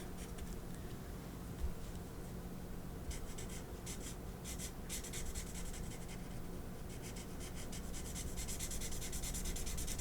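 A bullet-tip marker colors on paper in a steady, close scratchy rub that runs for the whole stretch, with brighter, busier strokes in the second half and no talking.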